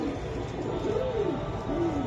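Giribaj pigeons at a pigeon farm give soft, low, rolling coos, two or three close drawn-out calls over a steady background murmur.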